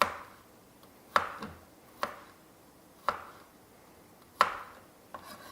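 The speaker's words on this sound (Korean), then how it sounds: "전도사님이 아주 양파를 잘 썰어주고 계십니다." An onion is cut with a knife on a board, giving five or six sharp, separate chops spaced about a second apart, close and clear over a quiet background with no one speaking.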